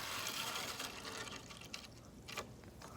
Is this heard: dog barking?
no